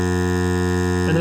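A DeWalt Grabo vacuum lifter runs with a steady, close electric motor hum, constant and unbroken, with a slight shift in tone near the end and no voices.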